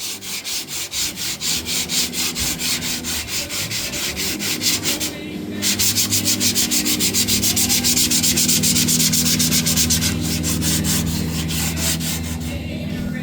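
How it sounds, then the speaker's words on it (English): Sandpaper rubbed by hand across a 1959 El Camino tailgate in fast, even back-and-forth strokes, loud and close, with a brief pause midway before the rhythmic scraping resumes. "the faster you sand, the faster you go, the more material you'll take on"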